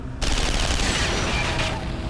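A dense burst of rapid automatic gunfire erupts suddenly in an anime shootout and stays loud and continuous for nearly two seconds.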